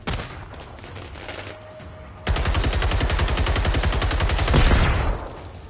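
Automatic gunfire in the video game Generation Zero, a robot-hunting shooter, starts abruptly after a quieter stretch and hammers in a loud, steady rapid-fire stream, close up, before tapering off.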